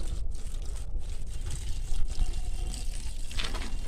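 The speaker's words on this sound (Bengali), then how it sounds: "এই পাইপ দিয়ে জল দিয়ে দিচ্ছি" A hose pipe sprays water to soak a garden mix of organic fertiliser, making a close, continuous hissing wash with a low, rumbling, wind-like undertone throughout.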